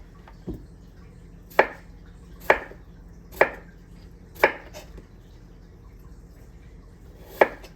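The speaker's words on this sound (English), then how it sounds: "You want to kind of slice them as even as possible, y'all, so they can cook evenly." A knife slices through potatoes in roughly half-inch pieces, five or six distinct sharp cuts spaced about a second apart, each landing on the board with a crisp thud amid otherwise quiet kitchen sound.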